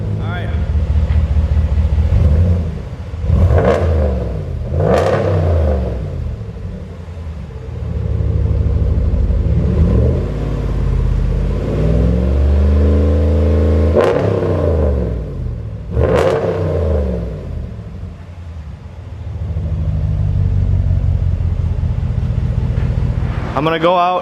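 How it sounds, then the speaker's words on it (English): A 2019 RAM 1500 with a straight pipe exhaust and muffler delete rumbles loud and close, with a deep idle and several sharp revs blipping up and falling back, and a voice speaking briefly over it. "so you guys can hear the difference between stock and with the straight pipe"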